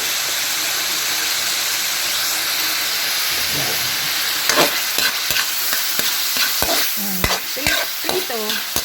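Baguio beans fry in canola oil in a pan, a steady loud sizzle with scraping and clacking stirring strokes coming faster toward the end, no voices.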